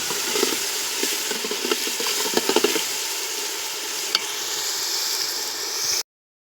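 Onion gravy sizzles and fries in a pan while a spoon stirs it, with scraping bursts and steady hiss close up throughout, then silence at the end; no talking.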